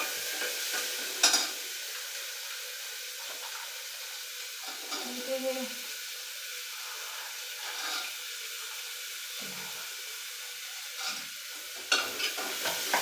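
Peanuts, onion and potato frying in a pan with ginger-garlic and coriander paste, a soft steady sizzle with occasional stirring knocks and a brief splash of water, close but quiet.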